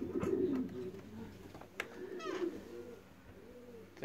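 Racing pigeons coo softly in a loft as birds return from a 349 km race from Wyszkow, a low throaty warble repeating over a steady background hum, with a brief sharper chirp in the middle.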